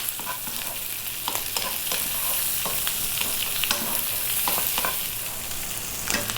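Two cups of onion frying in a pan, a constant bright sizzle with repeated scraping stirs at an irregular rhythm, close and unbroken by talk.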